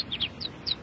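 A small bird chirps in short high tweets, four or five quick calls close by over a faint background hum.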